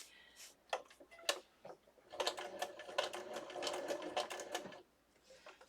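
A sewing machine stitches a journal cover in slow, separate bursts, then runs in a steady clattering stretch of rapid needle strokes up close before stopping.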